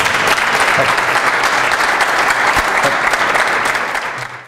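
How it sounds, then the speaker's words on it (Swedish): Steady, dense applause from a seminar audience in a hall, sustained and fairly loud for several seconds before tapering off at the end. "Kör första applåd."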